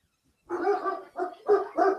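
A Boston terrier barks four or five times in quick succession, close and clear, after a moment of silence.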